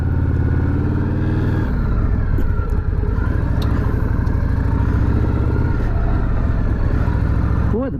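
A Harley motorcycle engine rumbles steadily while riding, loud and close, with the low throb shifting pitch as the bike changes speed, plus a brief voice near the end.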